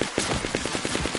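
Rapid automatic gunfire from a green machine gun in the video game Fortnite, a quick run of about nine evenly spaced shots over roughly a second, steady and fairly loud with no voices.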